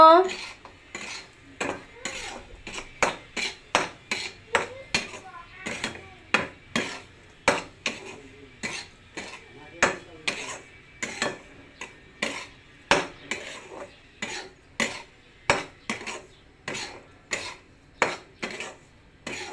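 A utensil stirs and scrapes semolina halwa with raisins, sugar and cashews in a pan, giving a steady run of sharp, rhythmic clinks and scrapes, about one or two per second, close and clear with no talking.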